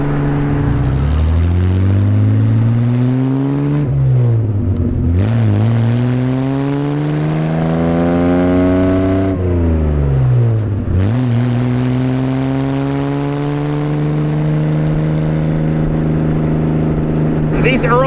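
A 1961 Austin-Healey 3000 Mk I six-cylinder engine revs steadily, its pitch rising and falling in long sweeps with two brief drops, loud and close, with no talking.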